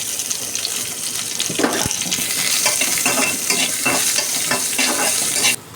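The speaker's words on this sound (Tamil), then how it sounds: "வெங்காயம் பாருங்கள் இப்படி கொஞ்சம் வதங்கிக்கிடணும்" Two onions sauté in a pan with crushed garlic and masala for a potato fry, a continuous close sizzle with repeated stirring scrapes throughout before the sound cuts off abruptly.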